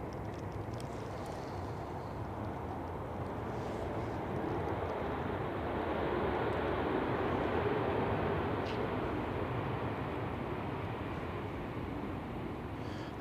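A Eurowings airliner passes at Manchester Airport on a stormy day, a broad low engine roar that swells through the middle and slowly fades, heard from a distance with wind and no talk.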